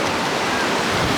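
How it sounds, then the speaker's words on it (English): Strong wind at the beach at Myrtle Beach ahead of a thunderstorm, a loud, constant roar of gusts buffeting the microphone, mixed with surf. "it's very, very windy out here."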